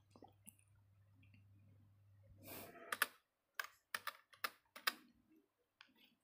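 Keys on a computer keyboard are tapped in short irregular bursts while commands are entered into a router's command-line interface, with crisp clicks up close and a low hum beneath the opening seconds.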